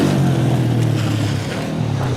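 A motorbike engine runs steadily and close by, a loud, continuous low drone that holds for about two seconds with no voices over it.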